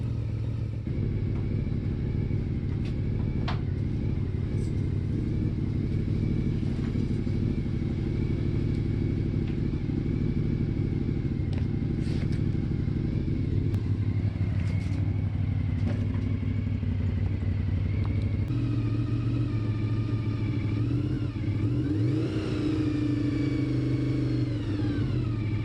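A warmed-up Honda VFR 750 motorcycle engine idles steadily and close by, a low rumbling throb with light mechanical clatter, holding an even loudness throughout with no talking.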